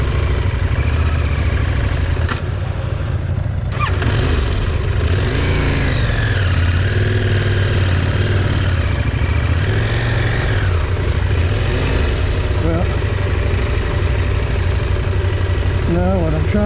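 An off-road vehicle's engine runs loud and steady on a dirt trail through Ozark country as the wheels spin for grip, with rising revs near the middle and voices talking over it.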